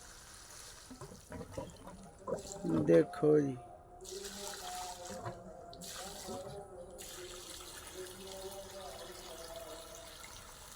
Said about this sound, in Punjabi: ਹੁਣ ਜਾ ਰਿਹਾ ਪਾਣੀ ਸਾਰੇ